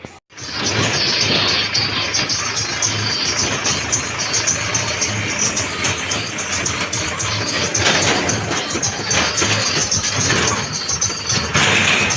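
A tractor engine runs steadily and loudly throughout, a constant mechanical rumble with no breaks after a brief start.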